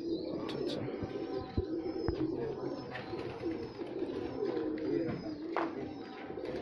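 Pigeons coo steadily inside a loft that keeps Pakistani and Indian fancy breeds, with layered overlapping calls, a few sharper chirps and bursts of wing-flapping throughout.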